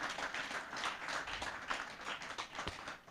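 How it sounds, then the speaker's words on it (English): Conference audience applause, a steady wash of many hands clapping at moderate volume for about three seconds. "Shall we appreciate him with an applause yet again?"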